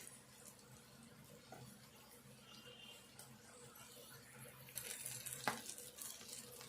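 Green chillies fry in oil in a pan with a faint, low sizzle, a few soft clinks and scrapes as they are turned, and a louder crackle near the end.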